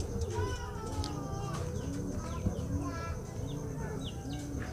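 Young pigeons coo in an aviary, low repeated coos overlapping in a continuous murmur, with faint higher chirps and background noise.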